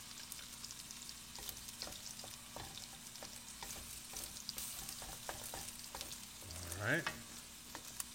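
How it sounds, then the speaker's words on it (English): Scrambled egg frying in a pan for fried rice, a low steady sizzle with repeated light tapping and scraping from stirring and a louder scrape near the end; a voice speaks briefly. "we'll do a scrambled egg here, and we're gonna mix it with the"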